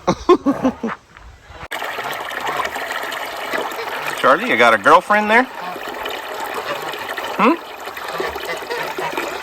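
Fresh water runs steadily from a hose into a container on a farm full of birds, a constant wash heard under a voice and chatter.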